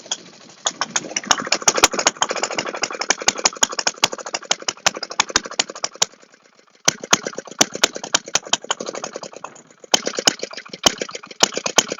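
An old small engine chatters with fast, uneven ticking and clattering, close and fairly loud, briefly dropping out around the middle and again near the end before catching once more; no voices.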